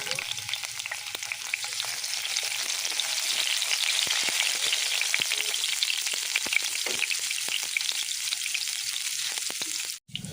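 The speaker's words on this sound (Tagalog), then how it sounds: "Kapag mainit na, lagyan ng tinadtad na bawang at hantayin na mag golden brown ito." Chopped garlic frying in hot oil in a pan, a steady, close, dense crackling sizzle that runs without a break for about ten seconds before cutting off abruptly at the end, with no voices.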